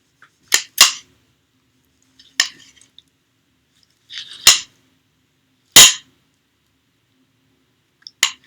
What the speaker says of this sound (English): Cut my tomato.